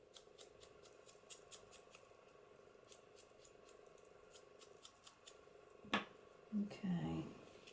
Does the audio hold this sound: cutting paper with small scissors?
yes